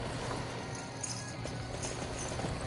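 Horse hooves clop steadily in Dynasty Warriors 9, a rhythmic galloping beat under busy battlefield game noise, with a faint whinny possible and no clear talk.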